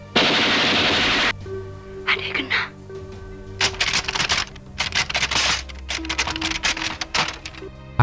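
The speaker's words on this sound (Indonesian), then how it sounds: "Namun naas, Mardiah salah buka pintu yang membuat adik Irma terkena tembakan dari salah satu pasukan penculik." Gunfire effect in a dramatized retelling of a night raid and kidnapping: a sustained loud burst of automatic fire, then repeated rapid crackling volleys in irregular clusters, close and harsh.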